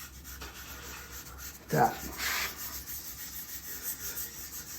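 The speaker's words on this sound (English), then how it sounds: "Work around the curves with your fingers. Smooth it on down in there." Fingers rub Tru-Oil finish into a curved wooden surface with soft, close rubbing strokes, one brief louder swipe among them, over a faint background hum, and a voice speaks briefly.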